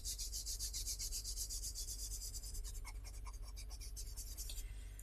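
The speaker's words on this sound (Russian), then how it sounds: "И вот тут с этой стороны я бы тоже немножко бы затемнила черным карандашом." A black pencil shades a pastel drawing of glass on paper, a steady close scratchy rubbing of strokes back and forth, quiet and continuous with no talk.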